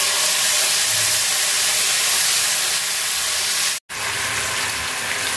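Garlic paste frying in hot oil over already reddened onions for a cauliflower and tilapia curry, giving a steady, loud hiss of steam and sizzle that runs without pause apart from one brief cut.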